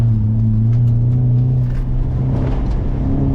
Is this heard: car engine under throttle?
yes